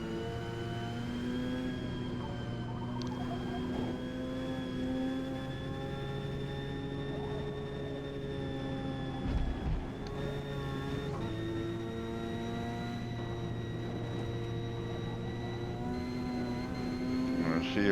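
A Mazda RX7 racing in Forza Motorsport, A class at Maple Valley, gives a steady, sustained engine drone with strong harmonic tones and only slight shifts in pitch. Level stays constant throughout.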